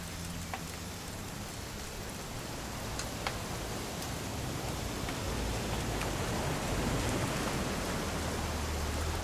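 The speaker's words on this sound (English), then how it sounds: "It's gonna rain the whole weekend, isn't it?" Steady rain in the video game What Remains of Edith Finch hisses evenly throughout, with occasional faint ticks of drops landing; a soft, continuous wash with no voices.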